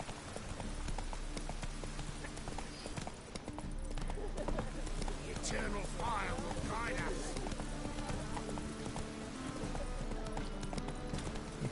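Roach, the horse from the video game The Witcher, galloping with a rapid, steady clip-clop of hooves, mixed with game sounds and someone talking over it throughout.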